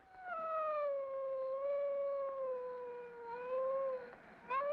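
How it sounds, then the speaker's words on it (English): Dog howling in an old public domain film, a single long wavering howl rising and sliding down in pitch, fairly clear and alone with faint background hiss, ending with a brief higher yelp. "See what that dog's howling about."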